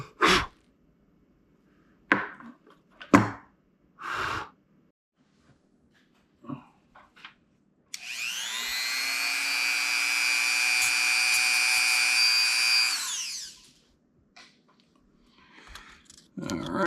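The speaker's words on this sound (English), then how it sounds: "I need to cut that bridge out there." A rotary tool cuts through the metal bridge joining e-bike battery cells, giving a sustained high whine of about five seconds close by. Scattered scraping and handling knocks come before and after it.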